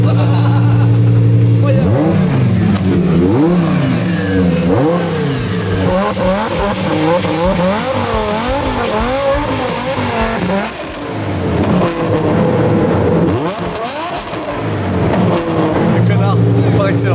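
A small mini boat engine revs hard as the throttle opens, its buzzing pitch climbing and wavering in loud, continuous surges. Excited voices talk and exclaim over it.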